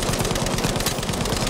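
Rapid, dense bursts of MG 34 machine-gun fire rattle continuously in a Battlefield V match, loud and close with no pauses across the short stretch.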